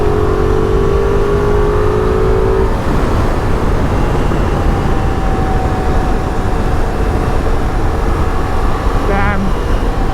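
A Ducati Multistrada V4 Pikes Peak or Hypermotard 950 RVE cruising on a highway near Hyderabad, its engine droning loud and steady under heavy wind rush, with a rider's voice heard over it.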